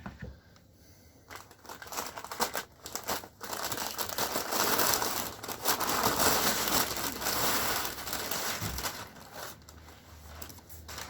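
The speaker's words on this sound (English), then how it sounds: "let's get this unwrapped" Plastic packaging around a can of expanding foam is torn and unwrapped, giving a long, fairly loud stretch of crinkling and rustling with scattered sharper crackles and brief pauses.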